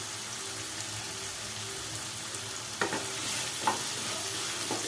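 A pan of okra and potatoes fries with a steady sizzle, and a spoon stirs the vegetables in a few scraping bursts toward the end.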